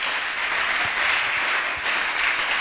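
A church congregation claps in acclaim of the Lord, dense sustained applause from many hands with a few sharper claps, no voices over it.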